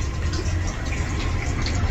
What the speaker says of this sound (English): I can hear more water flowing.